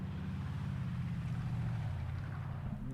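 A heavy truck rumbles past with a deep, steady engine drone. It is low-pitched and moderately distant and holds fairly even across the few seconds, with no talk over it.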